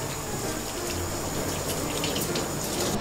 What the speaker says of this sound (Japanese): はい、そしたら鱗を洗い流していきます。